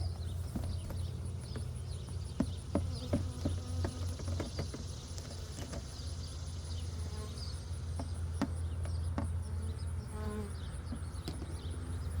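Honeybees buzz steadily in the background of an open hive during a varroa mite check, with scattered light taps and knocks throughout and no talking.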